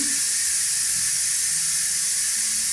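Loud, steady hiss of steam venting from a pressure cooker while cooking with food storage, a continuous bright rush that holds at full strength throughout.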